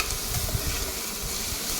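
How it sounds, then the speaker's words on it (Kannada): Onion, ginger-garlic paste and kasuri methi fry steadily in a pan, a dense continuous sizzle with soft stirring scrapes close up and no talking. "ಜೊತೆಗೆ ನನಗೆ ಒಂದು 2 ಟೇಬಲ್ ಸ್ಪೂನಷ್ಟು ಕಸ್ತೂರಿ ಮೇಥಿನ ಆ್ಯಡ್ ಮಾಡಿಕೊಂಡು ನೀಟಾಗಿ ಫ್ರೈ ಮಾಡ್ಕೊಳ್ತಾ ಇದ್ದೀನಿ"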